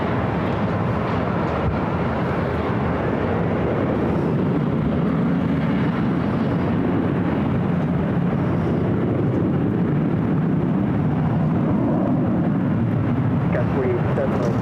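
Airliner taking off from runway 24 left at LAX, a broad steady engine roar holding loud and near for the whole stretch, with radio voices talking over it.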